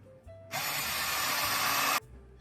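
A power drill drives a Phillips screw in one short, even burst of motor whir lasting about one and a half seconds, close by, with quiet handling before and after.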